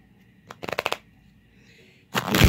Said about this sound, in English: While I'm doing a little shuffling or whatever